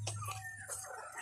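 Chickens cluck outdoors on a farm in a brief, faint burst of short clucks, with a low hum underneath.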